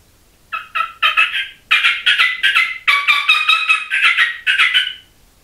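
A sassy-frassy turkey call sounds a string of loud, high-pitched, fast raspy hen cutts in quick bursts, with short pauses between groups, close and alone.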